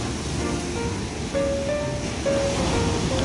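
Continuous broadband wash of rough surf rolling in, steady and fairly loud, with faint tonal hums drifting over it.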